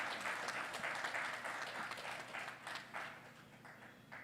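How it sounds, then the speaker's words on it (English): Conference audience of chartered accountants in Kolkata applauds a chief guest, a full, continuous burst of many hands clapping that gradually thins toward the end, heard fairly close without speech. "Friends, I request you all to give a big round of applause"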